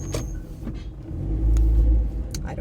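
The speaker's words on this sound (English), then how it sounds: "why my car is making that sound. That's a new one." An old car's engine and road rumble while driving, with a low droning noise swelling loud from the middle of the stretch alongside brief faint clicks, no talking.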